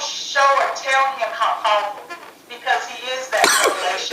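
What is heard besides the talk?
sneeze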